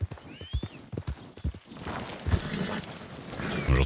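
Horse hooves clip-clop in a video game, a run of fairly close, rhythmic thuds that blends into a steady mix of trotting and background game noise.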